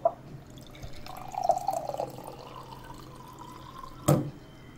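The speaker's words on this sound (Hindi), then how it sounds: "तो मैं पानी निकाल के पी के बताता हूँ।" Water runs from the tap of a Kent UV UF storage water purifier into a glass, making a short, close trickling stream with a clear click at its start and a sharp knock near its end.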